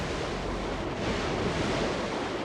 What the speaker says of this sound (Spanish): Las olas rompían contra la nave mientras el huracán nos envolvía con toda su fuerza.